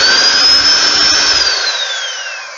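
Stick blender motor whirring at a fixed speed, a loud high-pitched steady whine with a sustained tone that slowly winds down near the end.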